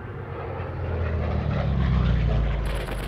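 Military aircraft engines drone steadily overhead, a loud, continuous low roar with propeller throb that swells slightly and holds without a break.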